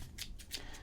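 Two or three quick, crisp snips of scissors cutting through stiff card packaging around a golf trading card, close and sharp.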